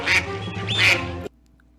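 Duck quack sound effect played for the Oregon Ducks, two loud nasal quacks in quick succession, then cut abruptly to near silence.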